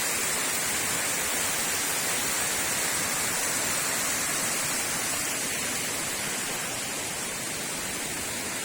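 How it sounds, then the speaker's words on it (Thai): Pha Tat waterfall near Kanchanaburi roars in a constant, dense rush of falling water. The broad, even wash holds unchanged throughout, with no voices. "นี่คือบรรยากาศรอบๆน้ำตกผาตาบ ยางชาติศรีนคริน ของผาภูมิ กาญจนบุรี"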